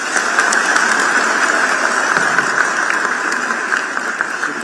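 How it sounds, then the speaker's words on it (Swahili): A crowd at a Kenyan state event led by President Ruto and Deputy President Kindiki applauds, loud and sustained clapping filling the room for several seconds with little talk. "Makofi."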